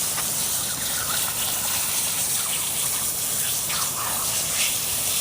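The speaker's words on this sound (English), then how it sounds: "the hose pipe, and that's how we're going to wash it out" A garden hose pipe gushes water steadily to rinse out a skinned, field-dressed squirrel, producing a loud, continuous splashing rush that lasts the whole stretch with no talk.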